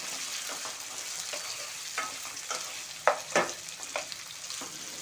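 Prawns fry in oil with a soft, continuous sizzle, broken by a few sharp spoon clinks and scrapes against the pan, fairly quiet and close, with no talking.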